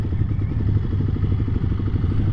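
A 2023 Kawasaki KLX300SM supermoto motorcycle turns around nearby, its single-cylinder engine putting out a steady, loud, rhythmic low thumping idle throughout.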